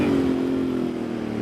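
Royal Enfield Bear 650 twin with a Dustland shotgun exhaust pipe revving while riding, a steady droning engine note that sags slightly in pitch, close and moderately loud without talk.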